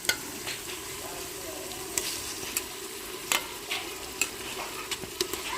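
Eggs fry in hot oil in a gravy, crackling with steady sizzle and sharp popping spatters at close range.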